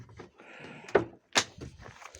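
A Tesla Model Y car door, repaired after side-impact damage, unlatches with a sharp click and swings open, followed by a second soft thunk, close by in a quiet space.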